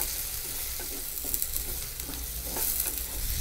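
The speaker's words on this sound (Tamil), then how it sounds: "இந்த தக்காளியும் வெங்காயத்தோடு சேர்த்து பாதுக்கலாம்" Tomato and onion sautéing together in a pan for a broad beans and prawn gravy, a steady close sizzle broken by scraping and stirring strokes of a spatula, with no voices.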